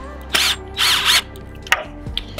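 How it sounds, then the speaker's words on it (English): Power drill driving the bracket's screws into a wooden DIY roller-skate slide rail, close and loud in two short whirring bursts, followed by a few sharp knocks and clicks. "We're just gonna drill these in."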